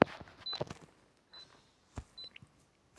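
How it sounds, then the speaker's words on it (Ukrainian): Short, thin electronic beeps sound a few times at uneven intervals, faint and high-pitched, among soft clicks and handling noises. "Що то пікає?"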